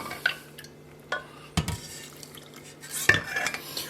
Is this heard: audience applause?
no